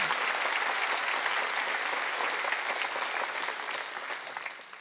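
A church congregation at a Wednesday worship service claps steadily, a dense, even wash of applause that holds for several seconds and fades slightly toward the end.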